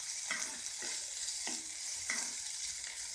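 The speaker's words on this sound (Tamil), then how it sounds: "இதெல்லாம் போட்டுட்டு ஒரு வதக்கிடணும்" Carrot, tomato and curry leaves sautéing in a pan, with a steady soft sizzle and four evenly spaced scrapes of a spatula stirring them, fairly quiet and close.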